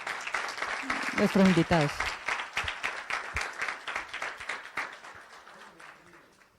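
Applause for guests at a Spanish-language event on artistic postmodernity, a dense burst of clapping with a voice speaking over its start, then dense clapping that thins and fades toward the end.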